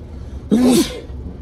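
A single short, sharp sneeze, close and clear, against faint background hiss.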